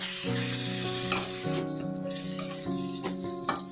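Peanuts and garlic frying in oil over a low flame, a dense, steady sizzle close up with scraping stir sounds and a sustained tonal hum running underneath.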